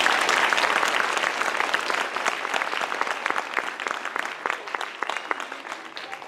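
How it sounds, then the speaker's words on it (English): An audience at a school band concert claps steadily for several seconds, a dense, moderately loud round of applause with no talking over it. "so please clap for her very loudly."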